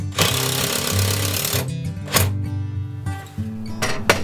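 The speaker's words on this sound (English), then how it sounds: "This task is easier with an impact driver" Impact driver driving screws into shelf brackets during a wall shelf installation, several loud rattling hammering bursts separated by short pauses, close and without talk.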